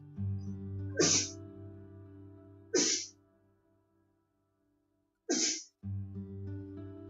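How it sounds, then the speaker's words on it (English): A single person sneezes three times in close succession, each a sharp, loud burst standing out over a steady game menu music bed, which drops away briefly before resuming. "Excuse me, I am going to sneeze."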